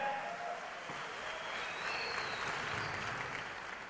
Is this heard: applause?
yes